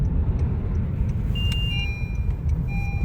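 A Honda car driving, a steady close engine and road rumble with brief faint tonal beeps over it.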